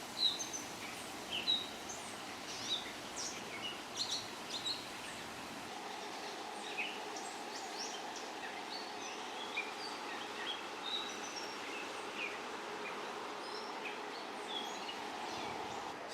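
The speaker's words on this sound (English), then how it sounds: "I really hope you all can hear the beautiful birds singing right now." Scattered birds chirp and call at a distance on a hillside over a low, steady outdoor hum, their short notes coming irregularly throughout.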